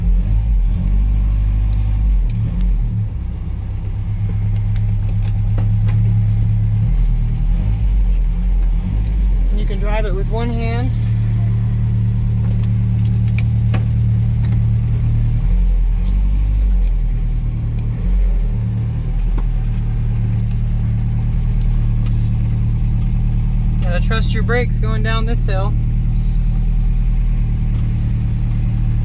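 A 1960 MGA Coupe with front disc and rear drum brakes, its engine rumbling steadily from inside the cabin on a downhill test drive, with someone talking over the drone throughout.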